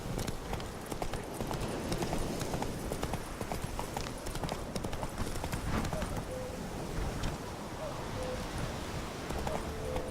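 Roach, a horse in The Witcher 3, gallops with steady, continuous hoof clip-clop close by across the whole stretch, against a busy outdoor ambience of rustling and wind.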